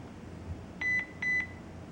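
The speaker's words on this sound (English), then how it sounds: "And the camera has beeped." A Heim Vision HM202 WiFi security camera gives two short, clear electronic beeps in quick succession after scanning a QR code, steady and high-pitched, over a low background hum.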